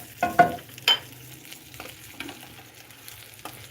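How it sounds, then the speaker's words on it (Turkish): Hot oil poured over a cooked dish, a few sharp bursts of sizzle and clatter early on, then a faint, fading crackle in a quiet kitchen. "Evet şimdi aşımıza kızgın yağımızı bir coslatalım"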